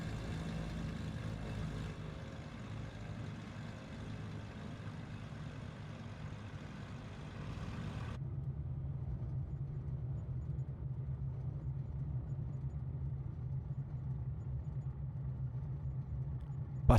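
A Cessna 414 Chancellor twin rolls out along the runway after landing in a flight simulator, a steady low engine rumble and tire drone that drops to a quieter, even hum partway through, with no talk.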